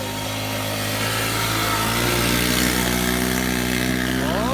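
A pit bike engine runs with its throttle stuck, holding a continuous buzzing high-rev drone that swells slightly, close by, with no speech.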